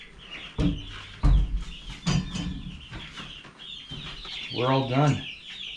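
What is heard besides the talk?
chickens clucking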